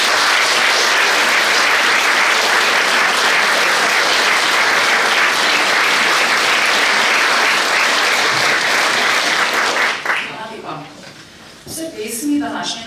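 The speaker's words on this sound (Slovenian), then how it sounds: "mislim, da si vsi skupaj zaslužijo še en dober aplavz in bravo." A concert audience at a choir performance in Stična applauds loudly and steadily for about ten seconds, then the clapping breaks off and a voice begins speaking.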